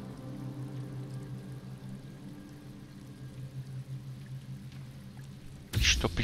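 Water in Star Wars Jedi Fallen Order: a low, steady murmur that suddenly becomes a loud, close rush of pouring water near the end.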